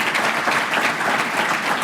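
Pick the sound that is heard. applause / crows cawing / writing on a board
applause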